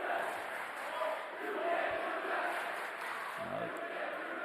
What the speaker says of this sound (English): Crowd doing chants.